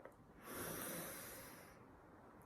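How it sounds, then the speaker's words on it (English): One long, slow deep breath drawn in and let out, soft and close, with a hissing airy texture and no talking. "Let's take a deep breath."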